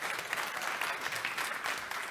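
Sustained applause from a lecture audience at an education talk by Jesús Guillén, dense steady clapping filling the room without pause for about two seconds.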